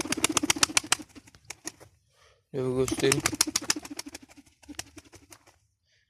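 Newly bought young pigeons flutter their wings in quick bursts of flapping, and a short cooing call follows, close by, while someone talks between the sounds.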